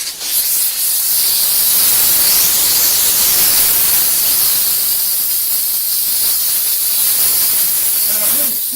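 Chief steamer spraying steam mixed with Optimum No Rinse from its hose onto a car hood to remove tree sap, a loud, steady, continuous hiss that runs unbroken throughout.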